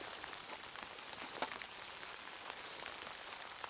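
Sleet mixed with snow pelts a car tent during a winter storm, a faint, continuous patter of tiny impacts with a few sharper ticks, heard close against the fabric with no talking.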